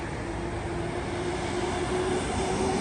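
A Seoul metro subway train in Korea rumbles steadily with a continuous droning hum and a faint whine, no voices over the ride.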